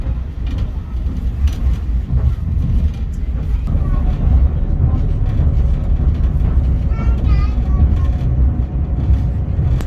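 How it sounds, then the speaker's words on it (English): Heritage train in Barry of the kind used in the film Havoc, heard from on board as a continuous loud low rumble of running wheels and engine, with faint squeals and a voice talking intermittently over it. "This is a very similar train to what I caught to school."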